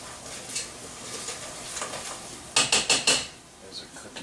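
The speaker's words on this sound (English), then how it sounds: "Give my onions another quick stir here." A spoon stirring onions in a metal cooking pot, a quick run of five sharp scraping clinks near the end after quieter kitchen clatter.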